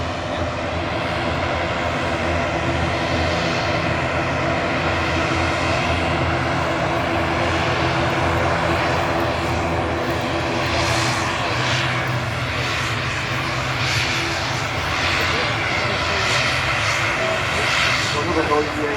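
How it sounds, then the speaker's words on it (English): An Aer Lingus Regional ATR 72 turboprop airliner operated by Emerald Airlines arrives at Manchester Airport, its loud, steady engine drone and propeller roar holding throughout. "Another noisy ATR 73 arriving from Air Lingus Regional."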